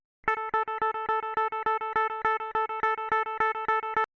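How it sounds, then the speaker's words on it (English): An unprocessed, dry DI electric guitar plays a single-note lead line as a quick run of evenly spaced, sharply picked notes, heard clean and alone. "you got this single note part, which sounds like this in the DI"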